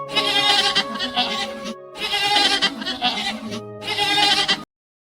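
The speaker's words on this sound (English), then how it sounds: "Goat." Repeated goat bleats, three loud, wavering calls in a row separated by brief pauses, close and clear with no talking over them.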